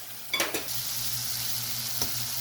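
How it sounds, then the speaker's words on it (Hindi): Eggs frying in a pan, with a steady soft sizzle and a few brief clinks of a utensil near the start and around two seconds, fairly quiet and close. "चले थोड़े से फ्राई हो रहे हैं फिर मैं निकालती हूँ इनको।"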